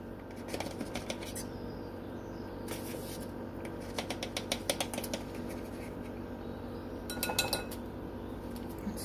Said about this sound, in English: Cornstarch I'm using. Whisk that in there.